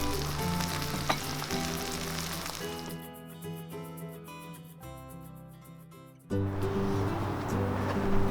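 Food frying on a Tembo Tusk Skottle, a shallow wok-style outdoor cooker, gives a steady sizzle. Background music plays under part of it, and the hiss swells louder again near the end.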